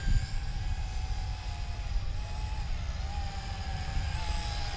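A JJRC H26wh wifi quadcopter drone flies at full throttle, its motors giving a continuous high-pitched whine over a broad airy rush, steady and fairly loud, no talking.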